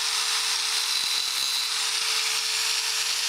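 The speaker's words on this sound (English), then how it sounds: "take a grinding disc here on my angle grinder, and I'm just going to kind of get clean down to some base metal" An angle grinder with a grinding disc cleans a cast-iron cane mill part down to bare metal, a steady high-pitched whine and scrape held continuously without pause.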